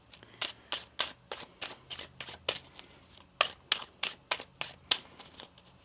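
A tarot card deck being shuffled by hand at close range, with a quick series of about fifteen crisp riffling bursts of crackly flutter and no talking.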